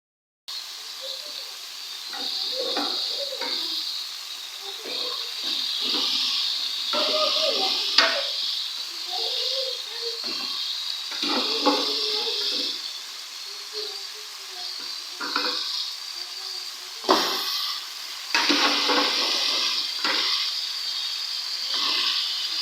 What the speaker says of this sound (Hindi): मसाले को मैंने अच्छे से भून लिया है और अब जो है हम इसमें ऐड कर देंगे हड्डियाँ।